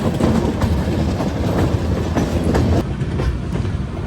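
Indian Railways Rajdhani Express climbing a gradient with a banker locomotive makes loud, steady rumbling rail noise with rhythmic clickety-clack from the wagons, heard close and continuous before easing slightly near the end.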